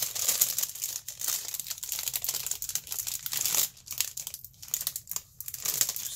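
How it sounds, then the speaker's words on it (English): Plastic packaging crinkles and crackles up close while items are unpacked, a busy, irregular rustling that carries on for several seconds with no talk. "Sorry for the crinkling noise"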